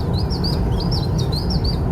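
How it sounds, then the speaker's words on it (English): A common chiffchaff calls in a radio advert, a loud, repeated series of bright chirping notes in a steady rhythm over a low rumbling background, with no talking. "This is the call of the chiff chaff."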